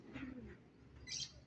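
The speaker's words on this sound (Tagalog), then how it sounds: "Ang bet natin ngayon yung mabibilis natin na ibon." Racing pigeons give a faint, soft coo and brief chirp at a distance, low and quiet against light background noise.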